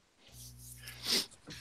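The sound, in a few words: sneeze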